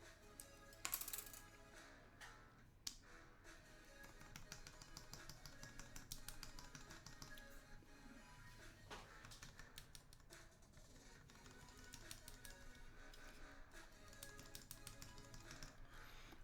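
Keyboard stabilizers on a Leaf60 polycarbonate board with Gateron Ink switches are pressed one after another, making faint, irregular clacks and rattly taps spread over the clip against a low background.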